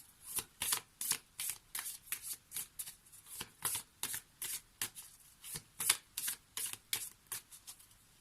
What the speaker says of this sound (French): On va prendre un petit peu plus de cartes, puisque là on va faire le tirage pour 3 jours